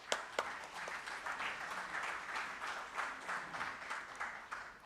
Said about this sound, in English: A round of applause for the Honorable Chair and the panelists,